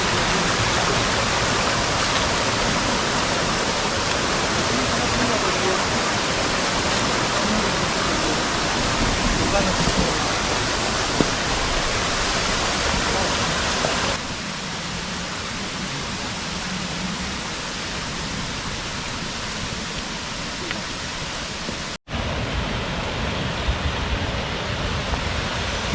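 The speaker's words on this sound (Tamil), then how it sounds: "எங்கே பார்த்தாலும் தண்ணி ஓடுற சத்தம் தாங்க." Mountain stream water rushes continuously through dense forest on the Pothigai Malai trek, a loud, broad, unbroken roar of running water close by, with no talk over it.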